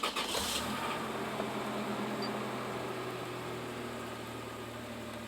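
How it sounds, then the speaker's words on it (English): A diesel truck engine cranks and catches on a cold start after two days unused, in rain, then settles into a steady low idle rumble with a faint whine, close by and unchanging. "This is a cold start. It hasn't been started in 2 days"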